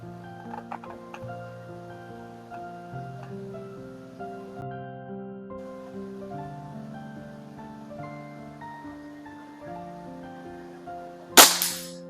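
A single sharp report from a Hatsan 95 air rifle firing at a 35-yard target, loud and abrupt near the end, following a long stretch of sustained background music.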